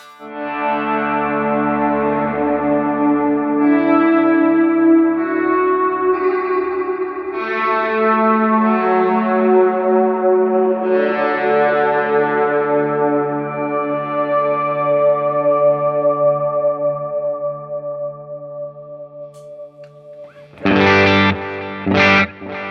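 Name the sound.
guitar pad sound with reverb trails through HX Stomp Nano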